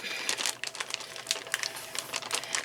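Pieces of raw pork Boston butt dropped and pushed into a plastic bag, giving close crinkling and rustling with quick irregular crackles throughout.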